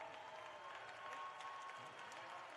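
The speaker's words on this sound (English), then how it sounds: "The crowd celebrating." Crowd at a Hamline versus Concordia basketball playoff game applauding and cheering in a gym, a faint, distant, steady patter of clapping with a soft crowd murmur underneath.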